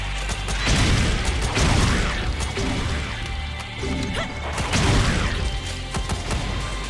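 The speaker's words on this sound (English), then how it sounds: "Explosions." Explosions in a video game crash and boom in repeated loud bursts, each blast swelling and then fading into mechanical rattling debris, with no talk.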